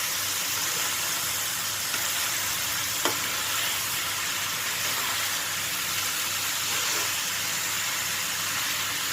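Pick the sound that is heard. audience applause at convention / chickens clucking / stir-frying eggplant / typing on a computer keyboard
stir-frying eggplant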